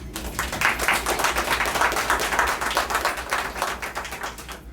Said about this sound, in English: So give Tracy a round of applause again.